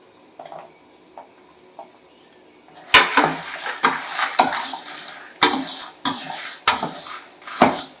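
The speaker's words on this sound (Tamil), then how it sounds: "இதோட பூண்டும் போட்டுருங்க. பூண்டு எல்லாமே வறுவட்டும்." A spoon scrapes and clanks against a pan as red chillies and garlic are dry-roasted without oil for idli podi, starting faint and then turning into loud, irregular metallic stirring strokes close by.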